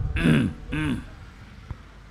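A man clears his throat twice in quick succession, close and fairly loud, followed by a faint click and then near silence, during a religious study gathering.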